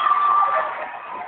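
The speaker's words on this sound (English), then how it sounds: "Give her a round of applause." A crowd at a local queen show crowning cheers and applauds, a band-limited, continuous roar of voices and clapping that holds steady and fades slightly toward the end.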